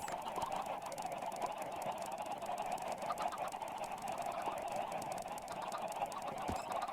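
Minecraft chickens make a continuous cluck-like bird chatter from a game, holding steady at moderate loudness for several seconds with no talking.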